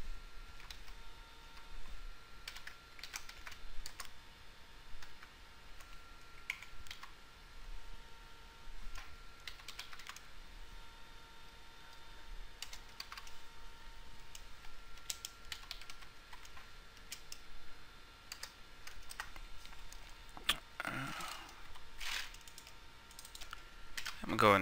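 Someone types VB.NET code on a computer keyboard, with soft, irregular bursts of key clicks throughout, a louder clatter near the end, and faint talk in the background.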